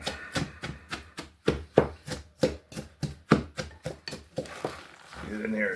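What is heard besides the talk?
cabbage being pounded and ground with Himalayan salt for sauerkraut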